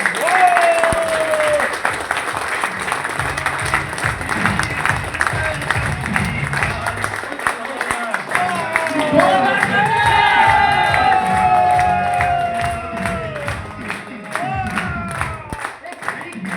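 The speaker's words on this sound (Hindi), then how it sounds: "जोरदार तालियां बजाएंगे।" An audience at the Manali Ozone Leaders Summit claps loudly and steadily, with scattered cheers and shouts throughout and voices over the applause.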